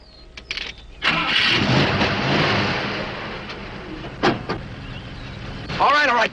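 A car engine cranks and turns over on a roadside, a broadband rumble building from about one second and holding steady, with a few sharp knocks and clunks later and faint voices in the background.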